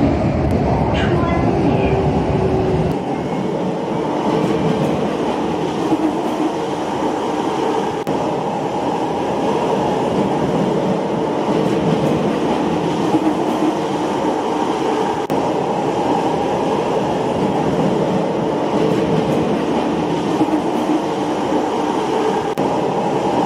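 A Roblox video game commuter train, TEL Service CT251, runs with a continuous rumbling drone of wheels and motor hum throughout, close and steady, with a brief announcement-like tone near the start.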